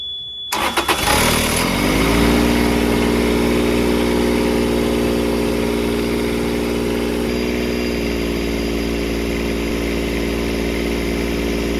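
An engine on a Carrier Supra 850 truck freezer unit cranks and starts, then settles into a steady, loud idle with a constant low hum that continues throughout.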